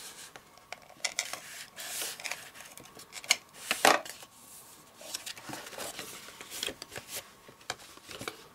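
Cardstock is cut for a gift wallet, faint close rubbing and snipping scrapes in short irregular strokes, quiet and alone.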